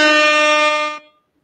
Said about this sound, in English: There's an air horn.